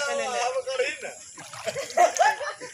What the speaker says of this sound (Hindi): देखिए घर में कैसे कैसे पानी घुस गया